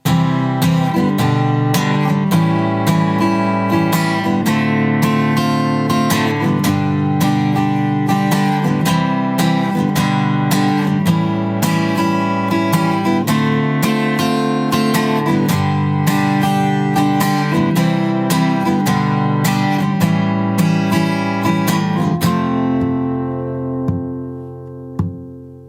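An acoustic guitar plays the chorus of a song with rhythmic strummed chords in a steady pattern, close and clear, ending on a ringing chord that fades out.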